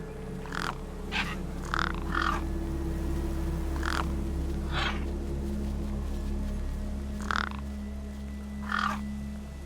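Crows in the game Beyond a Steel Sky caw repeatedly in short, hoarse bursts spaced irregularly over a steady low electronic drone, loud and close with no talking.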